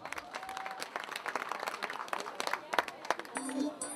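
Wedding guests at a Turkish-style ceremony clap in a steady, mid-level patter, with crowd chatter and voices mixed in throughout.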